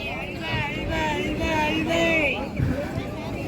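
A large crowd gathered at the foot of Othimalai hill, a dense babble of many voices and chatter with whistle-like tones rising above the hubbub, continuous and fairly close.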